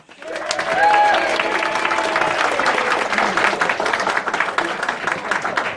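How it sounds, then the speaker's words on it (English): Wedding guests at a country club reception give the father of the bride a warm round of applause, loud, close and sustained, with a few whoops and cheers rising over the clapping early on. "A warm round of applause and a big welcome for the first speaker this afternoon"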